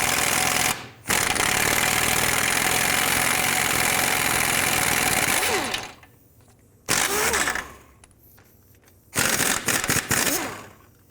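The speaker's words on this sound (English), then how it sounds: "So now with a 17mm, remove 3 nuts that hold on the motor mount." A 17mm tool loosens the motor mount nuts on a 2001-2007 Toyota Highlander in loud, close rattling bursts: a long run of about five seconds, then two shorter bursts separated by quiet pauses.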